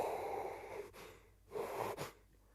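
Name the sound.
sneeze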